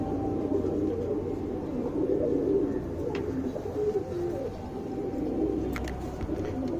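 Pigeons coo steadily at close range in a loft, a continuous low murmur of overlapping calls with a few sharper flutters and chirps near the end.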